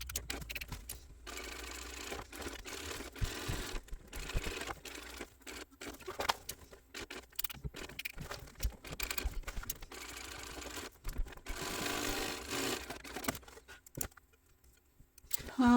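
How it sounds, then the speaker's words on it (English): A sewing machine stitches across a tote bag in steady whirring runs with a fast mechanical chatter, stopping and starting several times with brief pauses between passes, fairly quiet and close. "I don't want to sew through that top stitching"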